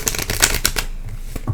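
Tarot cards being shuffled by hand, a close, crisp run of rapid riffling flutters and soft slaps, with no talking over it.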